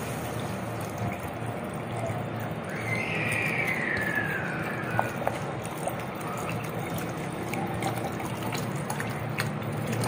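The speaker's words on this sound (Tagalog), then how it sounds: "Lagyan na natin ng tubig." Water is poured into a pan of sautéed salmon belly for sinigang, a steady trickling splash with a brief rising squeal partway through over constant kitchen background noise.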